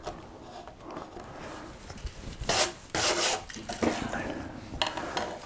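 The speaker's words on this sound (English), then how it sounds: "with the flatter gouge I'm going to just finish that up to here" A flat wood-carving gouge pares the edge of a wooden breadboard, giving close scraping and shaving strokes in short irregular bursts, some sharper and louder than others.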